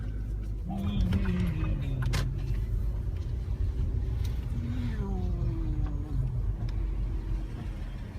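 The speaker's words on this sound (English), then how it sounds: "Driving my car." A car driving along a street, its engine droning steadily with rising and falling tones as it moves, close and continuous throughout.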